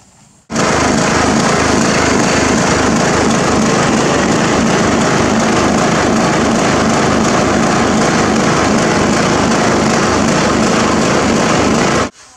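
A Troy-Bilt Pony riding lawn mower with a surging carburetor drives at top speed, its small engine a loud, steady, close drone that starts abruptly and cuts off near the end.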